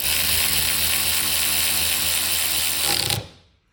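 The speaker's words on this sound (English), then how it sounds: "this is my 12-volt Milwaukee M12 ratchet" A Milwaukee M12 12-volt cordless electric ratchet spins continuously with a loud, close buzzing whir for about three seconds, then cuts off abruptly and winds down to silence.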